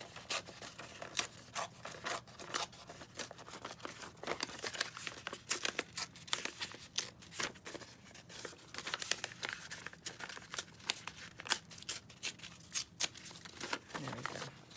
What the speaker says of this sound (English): I think I'm going to do my hand tearing